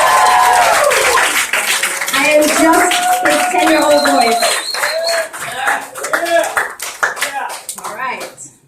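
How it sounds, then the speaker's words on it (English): Clapping from an audience at a poetry reading event, loud at first and tapering off while a child and an adult speak over and after it. "So all your applause goes to Kieran Go."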